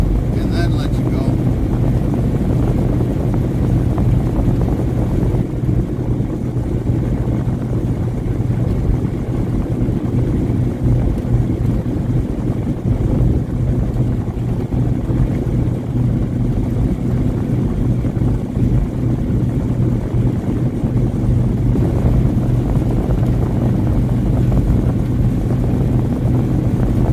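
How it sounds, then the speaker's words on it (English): Wind buffeting a microphone during a delivery drive from Richmond to Detroit, a constant low roar and rumble lasting the whole stretch, loud and unbroken. "This wind just sucks."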